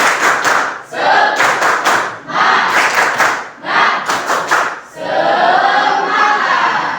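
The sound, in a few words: class doing a 'tepuk semangat' clapping chant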